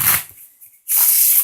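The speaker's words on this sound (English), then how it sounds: "shuffle up the deck a few times" A deck of playing cards is shuffled twice during a card trick, each a short crisp riffling burst, with a brief quiet gap between the two, close and loud, no talking.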